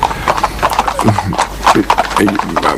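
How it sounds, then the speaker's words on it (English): Horse hooves clip-clop in an even, repeated rhythm during a hunt outing with hounds, fairly close, with a voice talking over the steps throughout. "There is the togetherness with the horse, which is extremely important"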